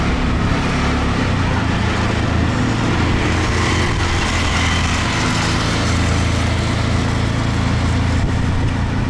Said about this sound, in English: let me show you a drive in the tuk-tuk.